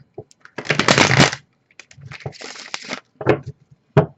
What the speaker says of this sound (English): Oh, that was a terrible shuffle.